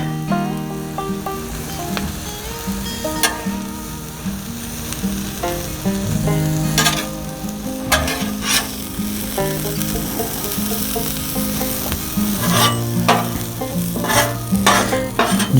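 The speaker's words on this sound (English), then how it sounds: "we're going to use some cheddar cheese. Just kind of lay that across here. Add some of that nice pulled pork." Cheddar cheese and pulled pork sizzle on a hot Blackstone griddle, a steady close frying hiss broken by scraping and stirring clatter.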